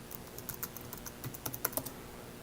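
Quiet keystrokes on a computer keyboard as a password is typed, a quick irregular run of soft clicks alone with no talking.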